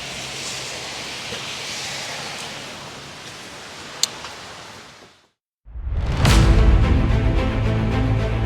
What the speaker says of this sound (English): You can see out there it is pouring the rain down.